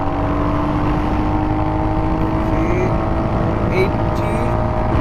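Royal Enfield Hunter 350 motorcycle accelerating in second gear: a steady, loud, close engine drone whose tone climbs slightly as it pulls, continuous for the whole stretch.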